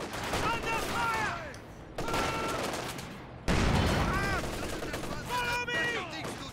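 Sustained gunfire and explosions from a Company of Heroes 2 battle, with dense bursts of machine-gun fire and heavy blasts that continue throughout, while voices shout over the fighting.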